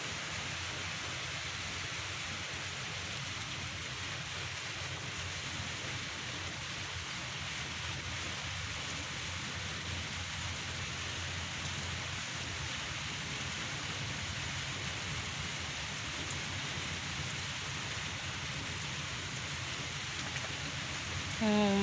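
Steady, even rain falls throughout on a wet, muddy rural day, a continuous close hiss with no breaks or distinct drops.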